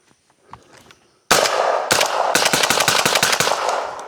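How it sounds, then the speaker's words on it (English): A short-barrel Vepr 12 shotgun fires suppressed birdshot outdoors at a range in a fast run of about a dozen loud, closely spaced shots, each a sharp crack, after a brief quiet lead-in. "We're gonna see if that birdshot will run with enough back pressure from this suppressor"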